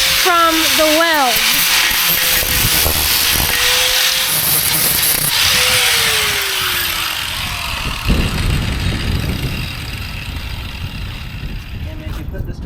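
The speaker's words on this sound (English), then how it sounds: "Now we are grinding off all the boogers from the weld." A power grinder works down a weld on a vehicle's transfer case setup, its loud whine winding up and shifting pitch before giving way to a rough, gritty grinding rasp that continues to the end.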